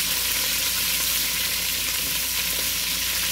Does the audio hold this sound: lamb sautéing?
yes